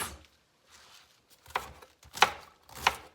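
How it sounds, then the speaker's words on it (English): Cabbage chopped into little pieces with a knife on a board, heard as three or four sharp, separate chops after a quiet start, fairly close and moderately faint, with no talking. "now I'm going to chop up my cabbage in little pieces"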